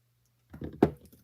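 A single soft thud of a rubber stamp pressed onto paper, preceded by a brief shuffling contact, close by and otherwise quiet.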